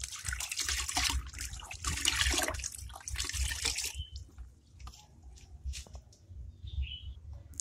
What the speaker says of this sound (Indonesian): Kita lelehkan dengan air panas.